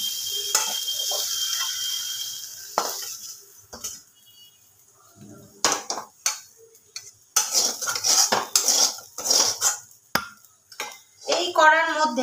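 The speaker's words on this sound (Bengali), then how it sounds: "আলুগুলো ভাজা হয়ে গেছে, আমি একটা বাটিতে তুলে রেখে দেবো।" Fried potatoes for a rich Bengali aloo dum scraped and lifted from a hot pan into a bowl, with repeated metal utensil clinks and scrapes, bursts of clatter and a faint sizzle of oil.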